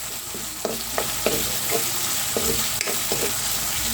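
Pork head sautéing in a pan, a steady loud sizzle running throughout, broken by scattered clicks and scrapes of stirring.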